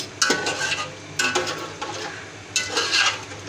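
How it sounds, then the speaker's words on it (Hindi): Salt being stirred into meat stock (yakhni) for beef biryani in a pot, with close scraping swirls of a spoon against metal in three short bursts over a faint hum. "नमक को मिक्स करेंगे इसमें अच्छी तरह"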